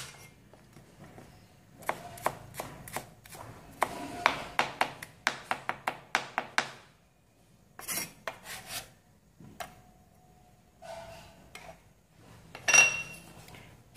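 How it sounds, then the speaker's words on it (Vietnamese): A knife taps rapidly on a cutting board mincing shallots in quick bursts of chopping, close and crisp, with pauses and a few scraping sounds between. "các bạn sẽ băm cho mình một ít hành thơm này."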